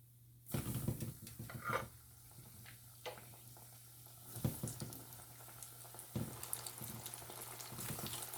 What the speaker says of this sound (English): So now I'm going to add them to my hot oil.